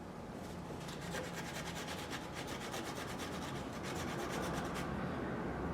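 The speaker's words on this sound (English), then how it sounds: "I am just simply running them on a piece of Scotch-Brite here" Small GS550 carburetor parts are rubbed back and forth on a Scotch-Brite pad on a bench top, giving a faint, steady scratchy rasp with quick repeated strokes.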